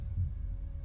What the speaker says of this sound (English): I can hear your heartbeat and it's pretty damn steady